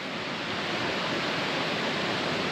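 A small bush creek near its junction with a larger one in the Brindabella Ranges, heard as a steady, close rush of flowing water with no breaks.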